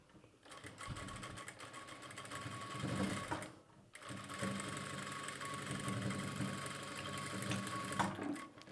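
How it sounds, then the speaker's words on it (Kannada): A sewing machine stitches a blouse with a close, steady mechanical whir that stops briefly partway through and then runs on evenly. "ಹೊಲಿಗೆ ಹಾಕ್ತೀನಿ ನಾನು ಫಸ್ಟು."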